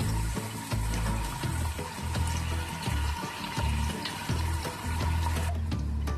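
Large sliced onions fry in a pan until light brown, giving a steady, loud hiss and sizzle with a watery, bubbling texture and some thumping handling noises underneath, with no talking.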